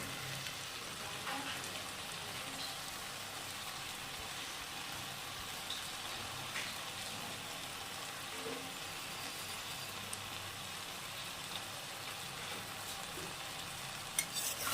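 Potatoes and spices sizzle steadily in rendered goat fat, a continuous low crackling fry with faint stirring, moderately quiet and close, with no talking over it.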